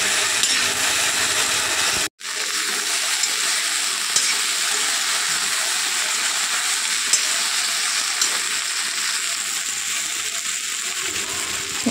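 Okra sizzles steadily in a hot pan, a loud, even hiss of frying with one brief cut near the start and faint stirring scrapes.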